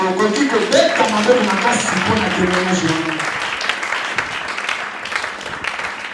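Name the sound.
congregation applauding in church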